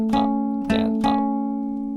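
Three palm-muted guitar notes plucked in a down-up-down pattern near the bridge, the opening of a song's riff, each short and damped with a sustained tone ringing underneath, close and clear with no voices.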